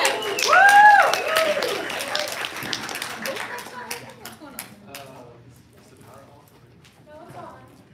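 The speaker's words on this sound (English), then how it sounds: "Round of applause for Jeff!" Audience applause at a talk on cinematic and VR technical art, a brief burst of clapping mixed with a cheer and voices that fades out over several seconds.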